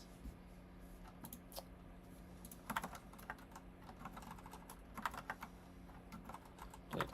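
Soft, quiet clicks on a computer keyboard come in irregular bursts of keystrokes, close by and faint, with no voices.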